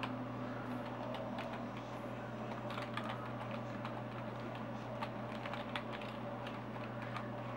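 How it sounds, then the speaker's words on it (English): One hand types steadily on the touchscreen keyboard of a Huawei Mercury M886 phone, making a stream of light, quick taps over a constant low electrical hum. "a little one-handed typing here"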